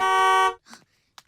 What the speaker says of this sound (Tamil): என்ன ஹாரன் சத்தம்?